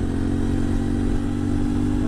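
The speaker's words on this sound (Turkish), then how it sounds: "Gördüğünüz gibi kükreye kükreye alıyor gidiyor motor." A CF Moto 450 MT motorcycle engine drones steadily under throttle while the bike climbs a ramp in strong wind. The rough, constant engine tone is loud and close throughout, with no speech.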